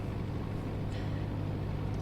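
A steady, droning aircraft engine hums continuously in a flight simulator game flying from Waterloo Regional to Dubuque Regional, one engine running after the other failed, with no voices over it.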